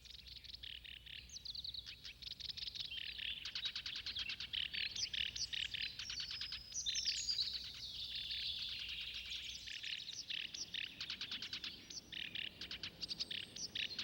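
Young seabird chicks call near their nest on a remote island in the West Sea, giving a dense, continuous chorus of high, rapid chirps and trills. The chatter is close and steady throughout, with no talking.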